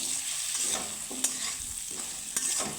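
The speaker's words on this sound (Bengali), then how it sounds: "তো নুন হলুদের সাথে আমি সুন্দর করে মিক্স করে নেব" Pointed gourd being stirred with salt and turmeric in a frying pan, a soft continuous sizzle broken by a few sharp scrapes of the spatula against the pan.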